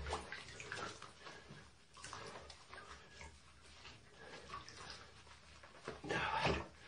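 Water runs into a bathtub while a cat is washed at home, a steady broadband wash of splashing and flow with slow, draining water, brief louder surges near the end and no clear talk.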